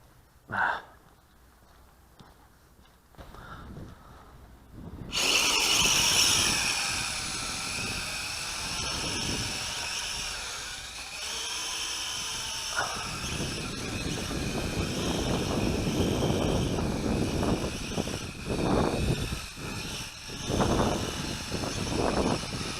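A Mould King 33040 Super X RC aircraft flies outdoors, its motors kicking in with a sudden high, buzzing whine that holds steady and loud, wavering as it moves, with wind noise and occasional breathing nearby.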